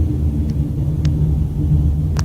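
A heavy rumble of a passing vehicle, loud and steady for the full stretch, with a few faint higher clicks on top and no speech.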